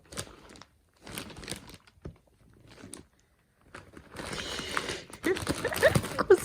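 A dog gets into a plastic bag of food indoors, with short bursts of crinkling and rustling separated by quiet gaps, then denser, louder crackling toward the end.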